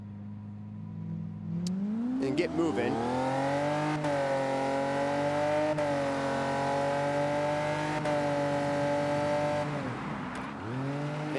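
A racing car engine in a racing video game revs loudly and steadily, its pitch climbing and falling through gear shifts with a brief dip near the end; a voice speaks briefly over it.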